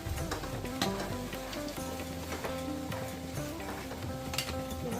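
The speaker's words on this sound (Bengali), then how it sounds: "আর এই যে আলু ভাজা হচ্ছে" Potatoes sizzle and crackle in hot oil, a steady frying hiss with occasional clinks and stirring sounds, no talk.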